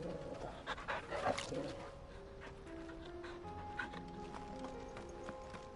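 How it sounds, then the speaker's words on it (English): A dog pants steadily in Final Fantasy 16, quiet and continuous over soft game ambience and faint hoof-like steps, with no talking. "Man, let me have a dog like that."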